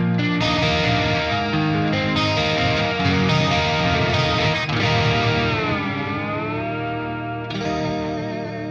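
Electric guitar run through a Fortin Nameless preset on a Neural DSP Quad Cortex, playing sustained, lightly distorted chords with a chorus-like shimmer, loud and continuous with a bend near the end.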